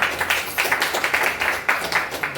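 An audience at an IMC company event claps for the company, a dense, steady patter of many hands, close and loud, with no talking over it.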